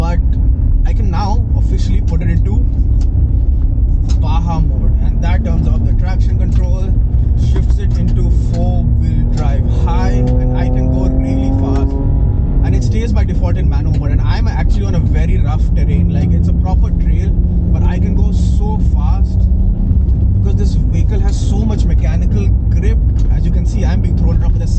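A 2025 Ford Ranger Raptor in Baja mode is driven hard along an off-road trail, its engine and road rumble loud and constant, shifting in pitch, while a person talks over it almost the whole time.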